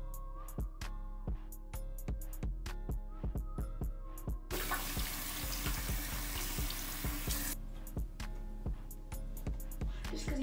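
A bathroom sink tap runs for about three seconds as a steady, full hiss of flowing water, set among quiet sharp clicks and taps before and after.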